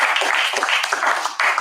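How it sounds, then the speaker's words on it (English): Audience applause after a guest speaker is introduced at a vice-president dialogue session, a dense and steady patter of hand claps that holds throughout at a moderate level, with no clear voices on top. "So everyone, please give Sister Nurhidayah a round of applause."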